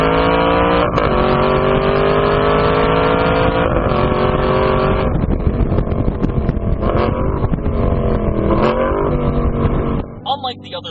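A 2015 Aston Martin Vantage GT's V8 snarls and growls loudly up close, climbing through repeated hard accelerations with brief drops between gear changes before cutting off near the end.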